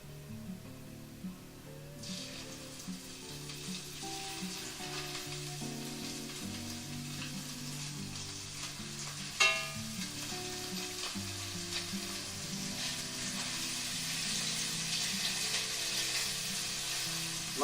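Dusted ahi tuna fries in hot oil over medium-high heat, a steady broadband sizzle that begins after a quiet first moment and grows louder toward the end, with a sharp crackle partway through and no talking.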